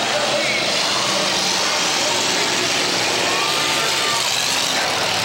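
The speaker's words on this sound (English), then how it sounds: "the loud engine you guys hear in the background, that is Casey Straight Suburban making all the noise" Loud, steady engine roar from Casey Straight's Suburban racing in a championship-night heat, a broad continuous drone close to the microphone with no clear pauses.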